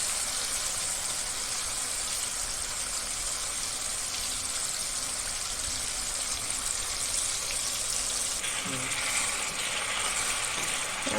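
Garlic paste with asafoetida fries in a pan with a soft, even sizzle throughout, quiet and unbroken, with no voices.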